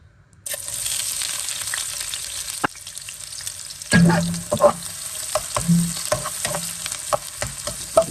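Onions hit hot oil in a pan for spicy spaghetti, setting off a loud, sudden sizzle that holds steady, then stirring scrapes and clatters over the frying.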